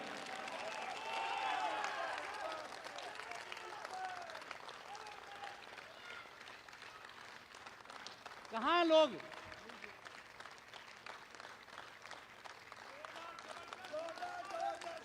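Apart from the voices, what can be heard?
audience applause at a stage event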